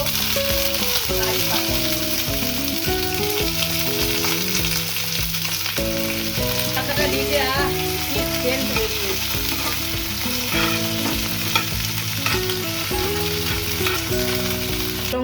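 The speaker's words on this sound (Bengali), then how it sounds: "সর্ষে আর কারি পাতাটা সুন্দর করে ভেজে নিয়েছি" Mustard seeds, curry leaves and green chillies fry in hot oil with a constant hissing sizzle, partly masked by melodic background music playing over it the whole time.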